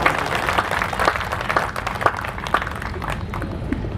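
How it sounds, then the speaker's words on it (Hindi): Audience applause at a Hindi poetry recital: dense, steady clapping from a crowd that fills the whole stretch, with a few sharper individual claps standing out at a loose, regular pulse. "एक बार मैं चाहता हूं भरपूर तालियों के साथ एक बार बता दीजिएगा आपको कैसा लग रहा"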